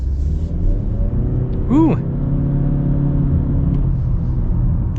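A 2024 Honda Accord Turbo accelerates in sport mode, a loud sustained engine rumble with a rising sweep as it shifts, heard from inside the cabin; a voice briefly exclaims.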